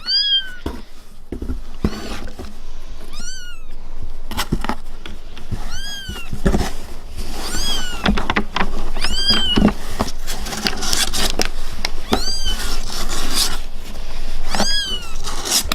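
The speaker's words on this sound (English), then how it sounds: "It's okay if the kitten cries a little bit" An orphaned newborn kitten cries with repeated high, thin mews at close range, about a dozen calls in an uneven rhythm, while soft rustling and handling noises sound between them.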